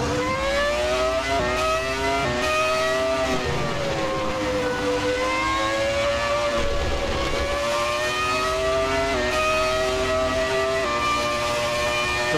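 Simulated Ferrari F2004 Formula One car lapping the old 1988 Monza circuit in a racing game, a loud, continuous high-revving engine scream rising and falling with gear changes, heard alone with no talk.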